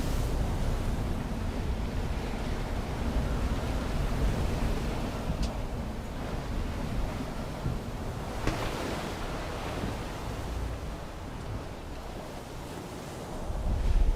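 Gale-force wind roars over a sailboat on the North Atlantic between Jan Mayen and Iceland, with crashing waves and rushing water in a dense, continuous wash, loud and close, with occasional gusts hitting the microphone.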